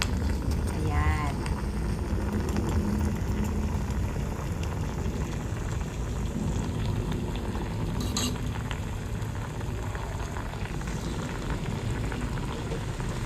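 A pot of sinigang-flavored soup boils steadily, a continuous bubbling hiss with an occasional light clink of a utensil nearby.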